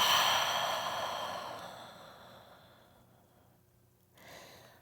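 A single long, deep exhale during a slow yoga flow, loud at first and fading gradually, followed by a softer breath at the end.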